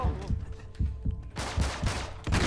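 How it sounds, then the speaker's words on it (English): Shotgun fire in the video game Uncharted 3: a quick string of sharp, booming blasts one after another, loud and close. "Uh-oh, was that a shotgun?"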